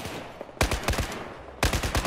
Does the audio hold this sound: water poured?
no